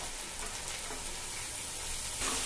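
Cabbage, carrots and capsicum stir-frying in a pan, a steady close hiss of sizzling that swells slightly toward the end, heard alone.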